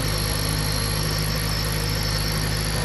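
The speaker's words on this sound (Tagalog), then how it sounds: "So pag diniinan nyo to clockwise, tingnan nyo, tataas ang minor niya na. Kita nyo to, lumalakas." A car engine idles steadily and loudly up close while the idle adjustment screw is turned clockwise to raise the idle speed.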